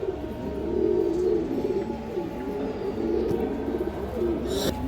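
Kanthi-necked pigeons, a cock and a hen at a senior fancier's farm, coo in continuous overlapping rolls, close and clear, with a brief sharper sound near the end and no talking.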